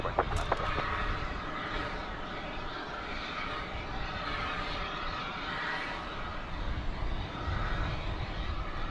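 Airliner engines roar at DFW Airport as an American flight moves on runway 18 left, a continuous broadband rumble that holds steady and fairly loud throughout, with no break or clear pass-by peak.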